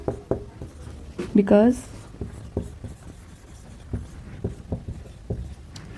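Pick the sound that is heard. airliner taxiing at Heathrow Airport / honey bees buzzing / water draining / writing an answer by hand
writing an answer by hand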